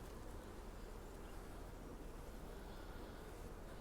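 Honeybees buzzing around a nucleus hive, a faint, steady, continuous swarm drone with no talking.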